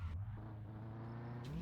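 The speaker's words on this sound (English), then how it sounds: "Why does my car sound so rough sometimes?" A low, uneven car engine rumble in the video game My Summer Car-style game Mon Bazou drones steadily, slightly rough and lumpy in tone, with no talking.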